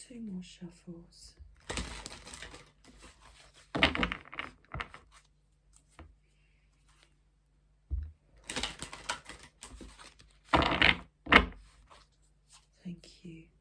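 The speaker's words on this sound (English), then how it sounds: "2 more shuffles." A deck of tarot cards is shuffled in several bursts of riffling and flapping, close and crisp, separated by quiet gaps and soft murmured speech.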